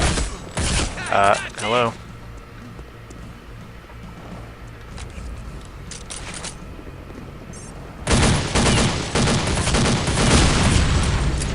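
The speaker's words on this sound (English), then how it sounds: "Is he shooting me because I accidentally attacked my teammate?" Counter-Strike Condition Zero gunfire from a teammate firing at the player in the Deleted Scenes campaign, early bursts of shots then a dense, loud volley of rapid fire near the end, with a voice speaking briefly.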